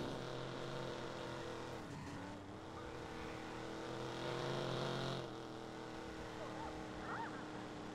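A car drives in the video game Watch Dogs. The engine makes a steady mid-level hum and drone with small shifts in load, fairly near and constant, and nobody talks.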